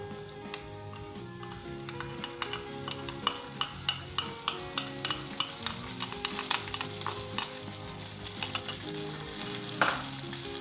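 Spices and pickle are stirred in a pan for achari pulao, a soft sizzle under a regular run of sharp utensil taps and scrapes against the metal, close and clear, with one louder clank near the end and no speech.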